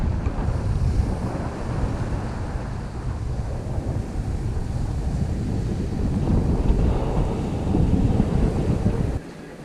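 Waves wash onto Cullen Beach near the Cullen Beach Marina, heard as a continuous rushing surf roar heavily mixed with wind buffeting the microphone, steady throughout with a slight swell late on.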